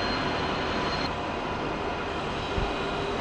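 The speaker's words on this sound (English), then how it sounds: "We've got an ICE3." An ICE3 high-speed train passes outside München Hauptbahnhof in the evening, heard as a steady, loud, broadband rushing roar that holds evenly from start to finish, with no voices.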